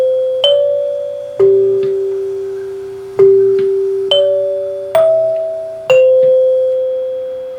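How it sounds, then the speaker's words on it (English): A Rittenhouse Model 552 xylophone door chime plays its eight-note front-door sequence, each struck bar ringing out clearly and decaying before the next, in an uneven, stepwise melody. "That's the front door chime"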